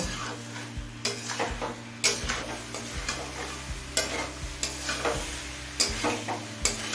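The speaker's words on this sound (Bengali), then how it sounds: "এবার মিডিয়াম ফ্লেমে আরও কিছুক্ষণ কষিয়ে নেব" Jackfruit and chicken stirred and fried in a pan over a medium flame: a continuous sizzle under rhythmic scraping and clinking of a spatula against the pan, close and regular.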